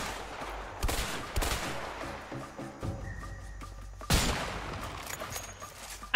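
Gunfire from a shootout in the co-op prison-break game A Way Out, with several sharp shots spread across the moment and a loud close report near the end, set over busy game ambience with no talking.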